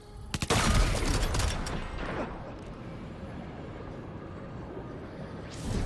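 Gunfire in Death Stranding 2 starts with a quick cluster of sharp shots, followed by a rumbling echoing tail and steady background noise, then one more soft burst at the end.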